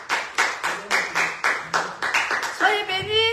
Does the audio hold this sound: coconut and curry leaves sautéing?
no